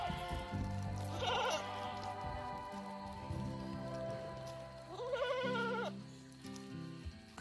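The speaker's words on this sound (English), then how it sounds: "The sheep dance down the hill when they're excited." Sheep and goats bleat in a rainforest setting in tropical Australia, with repeated wavering calls rising at intervals over a low, steady background hum, fairly close and clear, with no talking.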